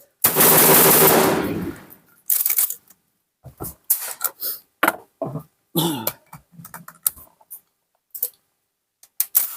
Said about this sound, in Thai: ก็เลยยิงปืนแทนก็ได้เหมือนกันนะครับ